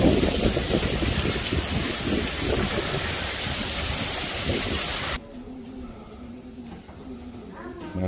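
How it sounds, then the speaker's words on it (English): Heavy rain pours down in sheets as a severe storm moves in fast, a loud, dense, continuous hiss that drops abruptly to a softer, duller patter about two-thirds through. "this rain is coming down"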